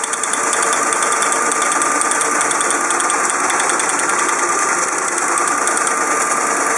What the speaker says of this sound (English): This is the Teletype Model 28 multiple page printer, also known as the waterfall printer.